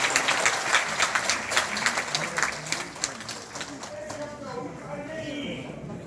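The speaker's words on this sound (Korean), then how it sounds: "다시 한번 큰 박수 부탁드립니다" An audience at a Korean party members' council meeting and special lecture applauds, with dense clapping that fades after a few seconds as a voice begins speaking over the dying claps.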